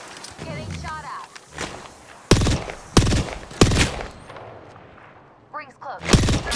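Apex Legends gunfire: loud, sharp shots in uneven bursts at close range, cracking out alone between stretches of quieter game ambience, with a voice briefly speaking early on.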